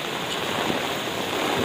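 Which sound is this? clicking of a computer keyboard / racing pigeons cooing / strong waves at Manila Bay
strong waves at Manila Bay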